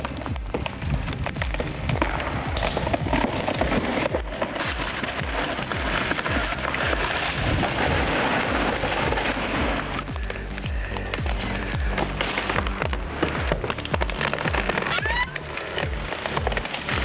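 Pouring rain falls steadily through a forest during heavy logging work, a loud, dense wash of patter that holds constant throughout, with occasional sharper knocks and rumbles mixed into the downpour.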